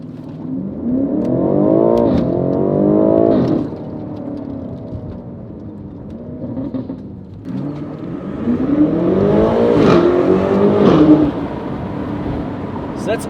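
A 2019 BMW M5 Competition fitted with Armytrix downpipes launches hard in Sport Plus mode, its loud engine roar climbing in pitch through two strong pulls with a brief shift dip between them.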